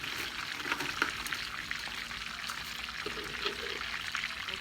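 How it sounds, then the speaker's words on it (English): Thin pasta going into a pot of boiling water on a home kitchen stove, heard as a soft continuous bubbling hiss with faint splashes, low and steady, with no voice over it. "So in the water they go and for about 8 minutes."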